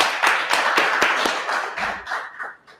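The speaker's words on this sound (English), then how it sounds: "Clap it up, everyone." An audience claps together in a quick burst of sharp hand claps that gradually thins out and fades over a few seconds.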